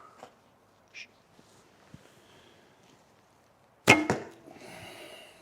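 An arrow loosed from a Minghe Assyrian bow gives a sharp, loud snap of the string and a thump near the end, after a few faint taps and rustles. A brief hiss of the arrow's flight trails off after the release.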